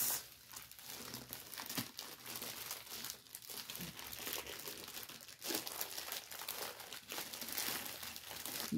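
Decorated paper cups in their packaging crinkle and crackle almost continuously, close and fairly loud, with brief sharper rustles and no talking.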